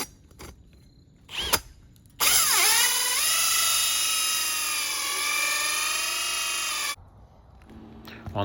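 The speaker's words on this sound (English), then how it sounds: "Before drilling the hole with the hole saw" A hole saw cuts through a roof while a bathroom exhaust vent is installed, a loud steady whining drone with shifting pitch that runs for several seconds and then stops abruptly, with some brief handling noise before and after.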